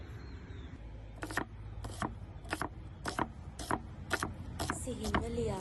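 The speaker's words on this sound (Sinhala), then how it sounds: "ලූණු, සුදු ලූණු, නය මිරිස්, කරපිංච මේවා කපද්දී අපි පුළුවන් තරම් සිහින්ම කපා ගමු" A knife chops onions, garlic, green chilies and curry leaves finely on a board, with about eight sharp, evenly spaced close taps over faint room noise.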